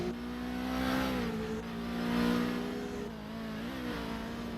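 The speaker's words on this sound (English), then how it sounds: "I can start hearing his engine, especially as they go into the hairpin" Race car engine revving as the car brakes into a hairpin during a three-way battle for the lead in a season finale race, heard fairly faint and distant, with pitch shifting as the engine goes up and down the gears.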